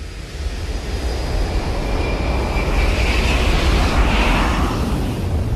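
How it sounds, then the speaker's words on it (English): A jet engine roars steadily and loudly throughout, a dense, sustained thunder with a rising whine, heard alone with no voices. "to the thunder of a jet engine."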